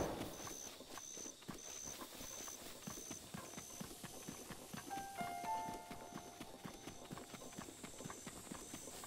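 Rapid clip-clop of a horse galloping in the video game Zelda: Breath of the Wild, a steady hoof rhythm under game music with bright chime tones, going on throughout at an even level.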